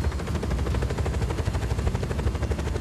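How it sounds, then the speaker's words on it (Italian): An enemy helicopter in the video game Just Cause 4 thuds with a fast rotor chop mixed with rattling gunfire, loud and continuous without letup. "Il nemico è sull'elicottero."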